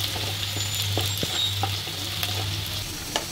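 Onions fry in oil in a wok with a constant crackling sizzle, dotted with light taps and scrapes of stirring throughout, and no voices.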